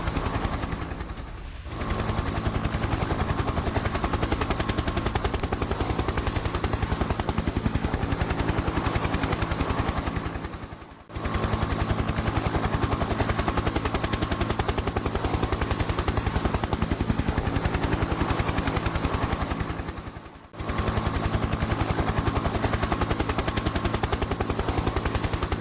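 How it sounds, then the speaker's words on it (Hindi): Sustained heavy automatic gunfire from a Ka-52 attack helicopter striking troops in a war zone, loud and continuous with two brief pauses, dense and unbroken for most of its length. "हेलीकॉप्टर से यूक्रेनी सेना पर बमबारी किए। K-52 हेलीकॉप्टर से विध्वंसक हमला किया गया।"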